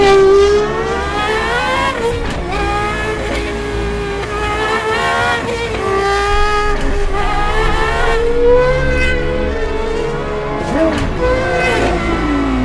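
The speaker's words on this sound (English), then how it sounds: "Now it's time to go for a drive." A Gordon Murray T.50 supercar drives with its engine singing loudly and steadily, the pitch rising and falling through revs and gear changes, heard close and continuous without talk.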